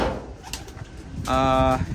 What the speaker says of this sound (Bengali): কবুতর সিলেক্ট করা হয়েছে এগুলো মাদি এগুলো নর